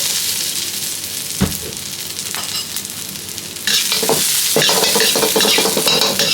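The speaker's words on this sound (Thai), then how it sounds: "คั่วกระเทียมก่อนนะครับ คั่วกระเทียมนี่ก่อนนะครับ ไปเบาๆครับ" Garlic stir-frying in a pan for Thai pork with chili and salt: loud continuous sizzling with metal spatula scrapes, the frying surging noticeably louder partway through, no talking.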